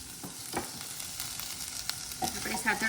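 Chopped onions sizzle steadily in a pan with chilies, cashews and cloves while a spoon scrapes and stirs them in repeated soft clatters, close and moderately loud, with no talking.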